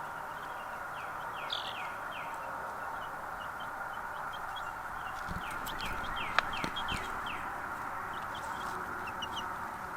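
Small birds chirp in short, repeated calls at a yard where a brush pile is drying. The chirps are moderately faint and scattered over a steady background hiss, with no talking.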